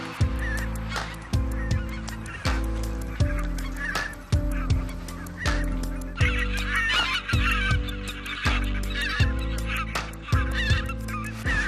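Many greater white-fronted geese honk repeatedly in a loud, overlapping chorus, calls coming in bursts every second or so, fairly close.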